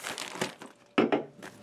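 Soft crinkling and rustling of an insulated cooler pouch on a camping chair as canned beverages are pulled out, with a few light knocks, brief and close up, in quick uneven bursts.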